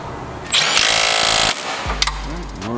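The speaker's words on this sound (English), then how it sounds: "We're gonna go ahead and bolt up the motor mount back so we don't forget this." Power tool, likely an impact gun, bolting a motor mount back onto a Subaru during an equal-length header install. It delivers about a second of loud, steady whirring, then a brief mechanical clatter and a low hum.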